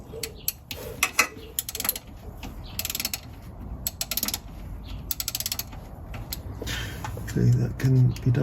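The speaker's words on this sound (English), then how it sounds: "Now we're going to loosen our filler bolt, which is here. I'll ratchet on to loosen," A ratchet loosening the transmission filler bolt on a classic Fiat 500, close irregular clicking and creaking bursts under talking throughout, with a rougher grinding stretch toward the end.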